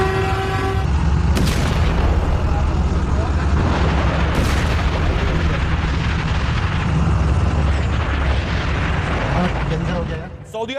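Loud, continuous rumbling blasts and booms from an Iranian missile attack on a large Saudi oil refinery, with sharp bursts near the start and a sustained roar throughout, under some voices.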